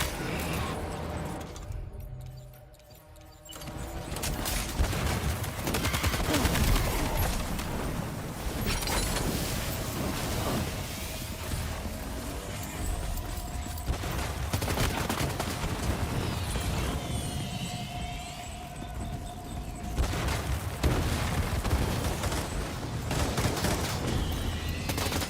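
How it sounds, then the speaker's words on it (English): Fireworks go off in a video game as a dense, continuous barrage of crackling, popping bursts, loud and close throughout, with brief lulls between volleys. "These perfectly aimed fireworks are pissing me off."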